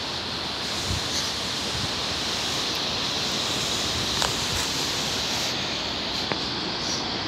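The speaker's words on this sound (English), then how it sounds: "Beautiful waterfall." A waterfall near an abandoned railway bridge over an overgrown river, a constant broad rushing roar heard close and steady throughout, with a few faint clicks and no voices.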